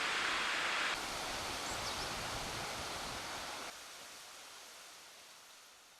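A powerful mountain waterfall framed by autumn foliage pours in a continuous hiss of falling water, moderately loud at first and then gradually fading and softening toward the end.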